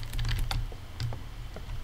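Rapid clacking keystrokes from a typewriter in the Roblox horror game Doors, a quick irregular burst of sharp taps near the start, then sparser strikes, fairly close and heard alone.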